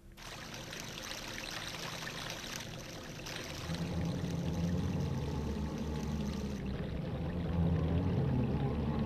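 Rushing, steadily pouring water in Zelda: Majora's Mask as the water level rises, a continuous broad wash that swells louder partway through, with no talk over it.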